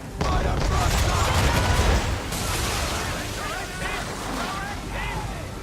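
Cannons fire in a naval battle in the video game Assassin's Creed III, with a loud dense barrage over roaring sea and wind for the first two seconds, then quieter rumbling and shouted crew voices.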